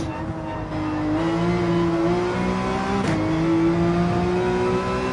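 Porsche 911 engine in Gran Turismo 7 revving steadily upward in one gear, a loud sustained rising drone with a brief dip from a quick shift midway, heard alone without talk.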